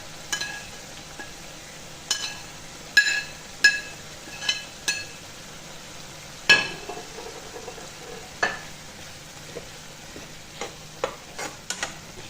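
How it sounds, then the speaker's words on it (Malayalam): Fried prawns go into a frying pan and get stirred, giving a steady low sizzle broken by clear, repeated clinks and scrapes of a spoon against the pan. "ഇതിലേക്ക് നമുക്ക് വറുത്തെടുത്ത ചെമ്മീൻ ഇതിലേക്ക് ചേർക്കാം കേട്ടോ."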